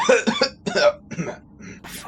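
A tabletop role-playing game player voices a rocky character coughing up gravel: a string of rough, harsh coughs and throat-clearing bursts, close and loud, imitating the character.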